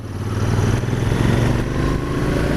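Royal Enfield Interceptor 650 motorcycle accelerating smoothly, a loud, close, steady engine drone with a gentle rising pull and no voices.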